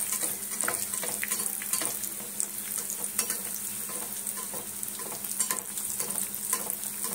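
Banana flower chops (mochar chop) fry in shallow oil in a pan, giving a steady close sizzle with frequent faint scraping and crackling throughout, no voices.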